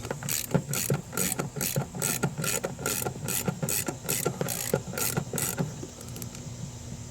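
A hand ratchet tightens transmission mount nuts on a Ford Edge, giving a close, even run of about a dozen quick clicking strokes in steady rhythm, then easing off near the end.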